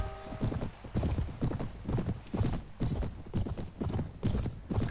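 Horse hooves gallop in the Mount & Blade video game, a fast mount pounding out steady, continuous clip-clop beats at close range with no talk.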